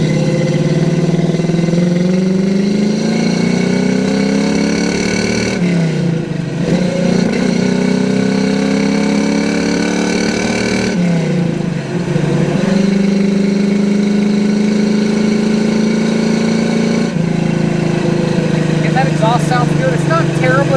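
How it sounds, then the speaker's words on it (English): A 1967 Chevrolet Camaro RS/SS with a 350 V8 and four-speed manual pulls hard under throttle, its engine note climbing through each gear, with three clear shift breaks, at a moderate, steady loudness up close. "It's not terribly loud, but it has a good muscle car sound to it."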